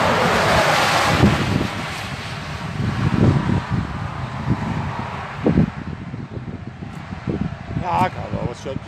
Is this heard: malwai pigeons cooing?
no